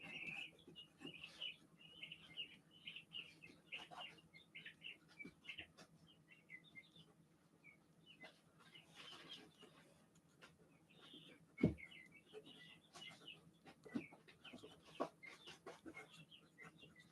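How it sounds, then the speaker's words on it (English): Small birds in an enclosure give off scattered high chirps and clucking calls, intermittent and moderately close against a quiet background, with one sharp thump partway through. "The little birds are running around in their enclosure."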